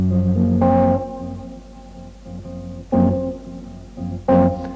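Three strummed guitar chords, major seventh flat five voicings, ring out one after another, each sustaining and slowly fading before the next, with no voices.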